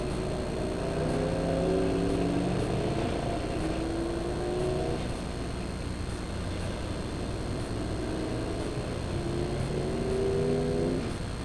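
Dirt track race cars roll out for a heat race at Lebanon Midway Speedway, their engines forming a steady, continuous drone whose pitch swells and dips as they circulate, with no voices.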